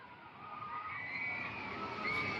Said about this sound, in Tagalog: Ayan, lumalakas ulit yung ulan